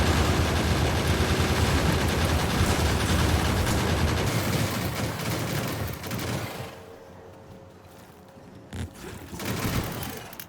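Gun turrets in the Factorio factory-building game fire at a worm in a dense, continuous stream of rapid shots. The loud barrage softens partway through, then swells again near the end.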